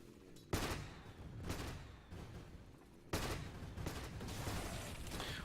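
Gyrocopter's Flak Cannon attacks tearing through a creep wave in a Dota 2 match, heard as loud, dense bursts of rapid gunfire-like shots, two sharp onsets with sustained crackling volleys between them, no talk.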